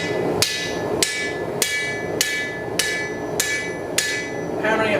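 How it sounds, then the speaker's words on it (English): Seven evenly spaced hammer blows ring out on an anvil as hot steel is forged flat, each strike a sharp metallic clang with a bright ringing tail, close and loud. "Hammering it flat corrects that."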